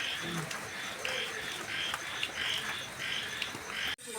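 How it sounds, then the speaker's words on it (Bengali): Repeated croaks from frogs, spaced in short bursts, heard over a steady wash of rain; a sudden clunk near the end. "আর ব্যাঙ ডাকছে,"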